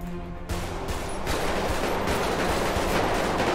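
In GTA V FiveM roleplay, a volley of automatic gunfire rattles out near and loud, building into continuous, dense shooting that lasts several seconds with no talk over it.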